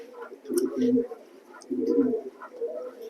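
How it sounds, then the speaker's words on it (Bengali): Pigeons in a loft coo in low, throaty rolling bursts, two clear pulses close to the microphone with softer cooing between, while faint higher chirps sit in the background. "চকো গ্রিজেল চকো গ্রিজেল অনেক রিয়ার কবুতর গুলা"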